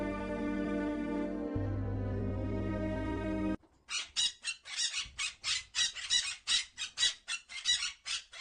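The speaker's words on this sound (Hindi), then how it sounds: "मुझे लगता है या तो एक पक्षी की आवाज है जो किसी मुसीबत में" A cartoon parrot squawks in distress, a rapid run of shrill, repeated cries after a sustained droning tone, loud and close with no talk.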